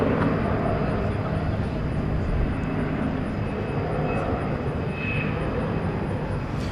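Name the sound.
airplane departing from runway 18 left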